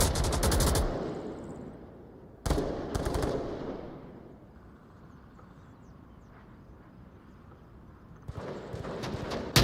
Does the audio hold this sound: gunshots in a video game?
yes